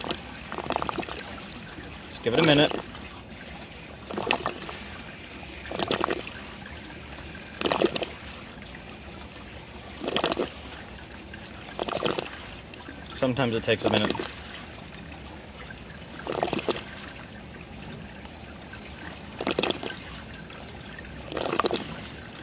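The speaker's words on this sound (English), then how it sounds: "You can kind of hear the air bubbles getting inside." Water drains through an aquaponics bell siphon in a wellness garden, making a soft continuous trickle. Recurring bursts of gurgling air bubbles come roughly every two seconds, and someone talks intermittently over it.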